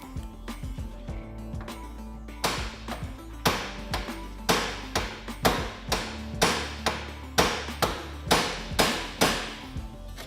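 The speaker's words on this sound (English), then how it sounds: "you take a hammer and you're gonna wanna hit right here" A hammer strikes metal in a steady series of sharp, ringing blows, about a dozen hits spaced roughly evenly, close and loud, knocking a tie rod end out of the steering knuckle on a Kawasaki Teryx 4.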